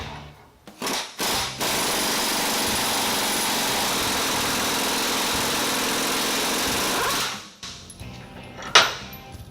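An air impact wrench loosens the supercharger pulley on a 2007-2014 Mustang GT500, with a few short bursts and then one long, loud, steady hammering run of about six seconds before it winds down, followed by small clatters.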